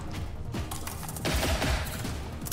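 Gunshots in the video game Generation Zero, with a few dull thumping shots and rapid bursts, moderately loud and mixed into noisy combat ambience.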